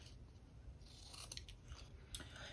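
Scissors cut through scrapbooking paper from a paper pad, a few quiet snips and crisp slicing sounds up close against faint background.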